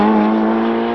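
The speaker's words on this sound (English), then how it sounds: "I immediately recognized it to be a 488 Challenge Evo" Ferrari 488 Challenge Evo race car driving on an open road near Maranello, its engine holding a loud, steady high-pitched drone close by with strong harmonics throughout, no voices.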